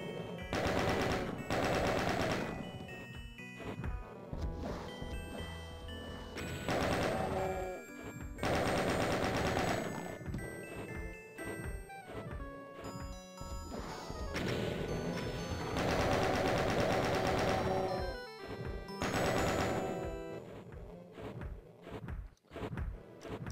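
Video game gunfire from Doom 2 comes in dense, loud bursts of rapid shots, repeated several times over a busy mix of in-game effects with brief lulls between volleys.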